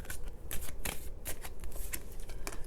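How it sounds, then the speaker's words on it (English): Tarot cards riffle and slap together in quick repeated shuffles, crisp and close, with no talking. "And let's shuffle some more."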